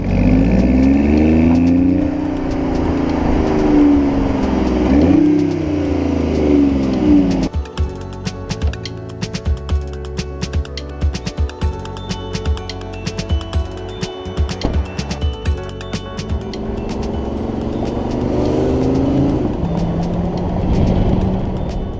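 A small 1.5-liter inline three-cylinder car engine idles, then revs up and down repeatedly with throaty, sputtering bursts, settling back to a steady drone; close and loud.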